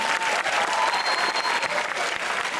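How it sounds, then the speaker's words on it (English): An anime convention audience applauds, a continuous close wash of many people clapping with faint crowd noise mixed in. "And everybody get a round of applause going for"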